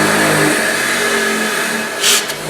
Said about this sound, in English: I'll hit it on the wire wheel here.